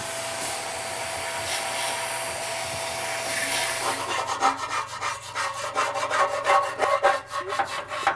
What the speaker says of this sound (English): start scraping the back wall and the side walls